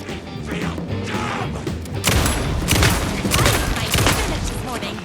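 Gunfire rattles in the Alan Wake 2 video game, Night Springs expansion, a loud close burst of rapid shots and crashing impacts that intensifies in the second half, with a voice talking over it.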